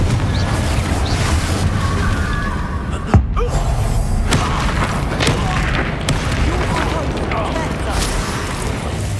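Hogwarts Legacy gameplay with the Confringo explosion spell and other spells being cast in combat, a sharp blast partway through among scattered impacts, thuds and crackles, over steady game ambience.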